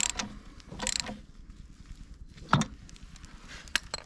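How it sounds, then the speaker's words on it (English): A ratchet socket tightens a spark plug on a Honda EU20i inverter generator, giving a few quiet, close bursts of clicking ratchet pawl separated by short pauses. "Finally, get the socket on it, the ratchet socket, and just tip, nip it up."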